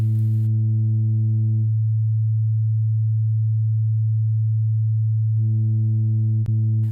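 A low, steady synthesized 808 sub-bass sine tone hums continuously, its upper harmonics dropping away mid-way and returning, with a brief click near the end.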